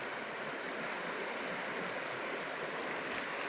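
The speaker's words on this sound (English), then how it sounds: "This is Waddell Creek." Waddell Creek flowing over rocks, a dense, steady rushing wash of water close by, continuous and even with no voices over it.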